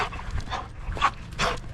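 A restless dog outdoors whimpers and pants in quick, uneven bursts, close by, with breathy huffs and soft whines over light background noise.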